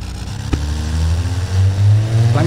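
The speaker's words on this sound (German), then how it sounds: "Klang wie eine Fehlzündung am Anfang." A six-cylinder inline engine rated at 215 kW in the Automation car-building game, heard on a test drive: a sharp pop near the start, then a low droning engine note that climbs in pitch as it revs.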